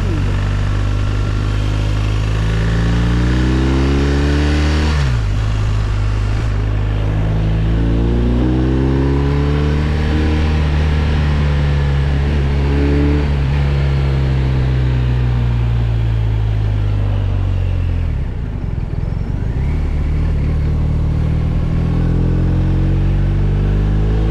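A 2024 BMW 1250 RT Sport's 136-horsepower boxer engine revs up and down repeatedly, its deep throaty pitch rising and falling, loud and close throughout.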